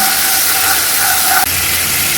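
A sev khamani tempering of water, sugar, chili and curry leaves simmers in the pan with a steady, even hiss of steam, continuous and fairly loud, with one small knock near the middle.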